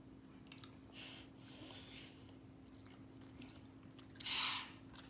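Soft, close-up chewing of chewy boba tapioca pearls while sipping homemade bubble tea, quiet squishy bites with a louder burst near the end.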